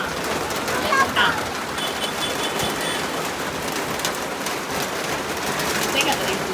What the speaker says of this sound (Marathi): भारी पाऊस पडायला लागला